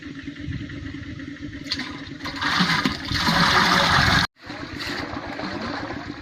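An old tractor engine drives an air-pump head lifting groundwater from a well, a loud rushing, gushing water flow over a steady engine rumble, briefly cutting out before resuming.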